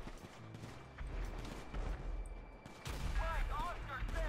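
Rapid bursts of gunfire and muffled blasts during an alien invasion in GTA 5, mixed with mechanical clatter and a voice talking over the action.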